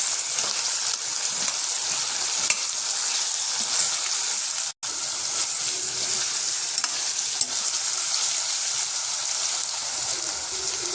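Ginger garlic paste fries and sizzles in a pan while being stirred for vegetable biryani, a loud continuous crackling hiss with scraping stirs, broken by one brief cutoff midway.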